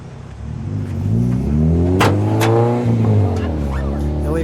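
A 1979 Pontiac Trans Am's 6.6 T/A V8 engine, hood open, gives one loud, close rev that climbs, holds and settles back to a rumbling idle.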